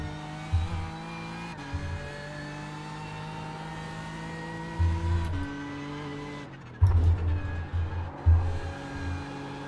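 Race car in an N24 racing video game spinning out, steady engine drone with harmonic tones, brief bursts of tire scrub and a sharper skid around the middle, engine rising again afterward, no talk.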